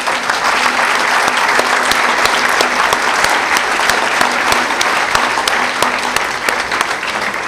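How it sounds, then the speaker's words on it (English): A large seated audience applauds Brahmavihari Swami in thanks after a talk, loud, dense and sustained clapping that holds steady throughout. "to give him a big round of applause"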